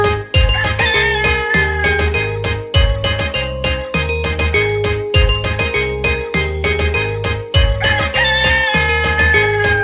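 A rooster's crowing repeats over a steady musical backing in a Hindi children's nursery song, loud and continuous, the pattern cycling several times.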